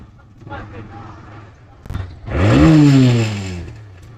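A small motorbike, ridden at dawn, revs up with a rising engine whine that swells loudly, holds briefly, then cuts off. Quieter road noise and faint sounds come before it.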